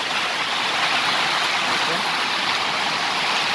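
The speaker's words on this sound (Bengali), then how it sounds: "দেখেন দেখেন জলের আওয়াজ, যেমন জল স্পিডে পড়ছে, আওয়াজটা শুনেন তাহলে বুঝতে পারবেন নিজে" Fast water rushing into and filling a roadside drain, a loud continuous broadband roar that stays steady and close throughout.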